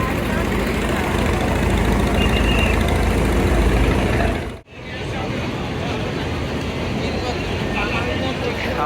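A trawler boat's heavy, low engine drones steadily and close by at a river launch ghat in Barishal, briefly dropping out midway before resuming at the same rumbling level.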